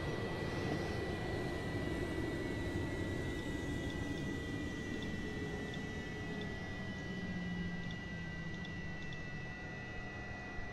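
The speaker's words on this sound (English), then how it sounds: "And somehow the engines are still up and running." Avro Vulcan bomber jet engines keep running after shutdown switches are thrown, a faint, steady whine and rumble with sustained high tones, unchanging across the whole stretch.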